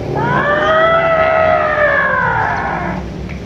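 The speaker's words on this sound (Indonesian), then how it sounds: "itu suara gajah." A single long, loud trumpeting call rises and slowly falls over about three seconds, with no talking around it.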